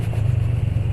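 A motorcycle engine runs steadily at close range with a low, pulsing idle rumble, its revs easing down over a brief stretch with no voices.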